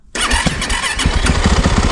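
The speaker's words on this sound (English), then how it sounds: "But hey, the bike started." A cheap dirt bike bought off Amazon starts abruptly with a sharp bang, then its small engine settles into a loud, steady rapid idle close by, with no talking.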